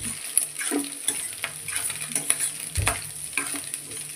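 Blood fry curry sizzles in a pan while a spoon scrapes and stirs it, producing steady frying hiss broken by irregular clinks and scraping strokes.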